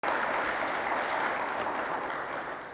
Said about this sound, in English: you and the negotiating team all deserve just a round of applause